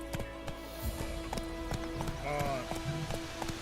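Roach, a horse in The Witcher II, clip-clops along in a steady rhythmic gait, hooves close and clear, with brief voices and a short musical tone in the background.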